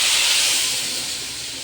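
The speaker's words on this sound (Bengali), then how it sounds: "এবারে ফোড়ন দিয়ে দেবো," Spices sizzling as a tempering is poured into a dish, a loud, bright hiss that bursts at once and then slowly fades, with no other sounds over it.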